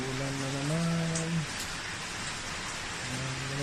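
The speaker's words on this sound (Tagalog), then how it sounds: "Ito yung ulan, mga patak." Rain falls steadily through an unfinished second-floor roof of a house under construction, a broad, continuous hiss of drops and spatter throughout, with a person's voice speaking briefly at the start and again near the end.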